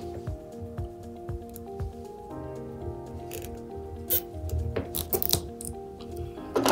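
A cable tie is ratcheted tight around a Molex MPTL network connector and then snipped off, giving small clicking ratchet sounds and a few sharp cutting snaps, close up and fairly quiet.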